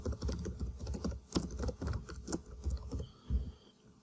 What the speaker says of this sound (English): I can just type in some anchor text.